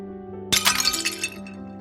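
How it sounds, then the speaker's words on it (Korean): Expensive porcelain dishes drop onto the floor and shatter in a single sharp crash, followed by about half a second of scattering, tinkling shards over a steady low background tone. "비싼 도자기 그릇이 깨져 날카로운 조각들이 사방으로 흩어졌다"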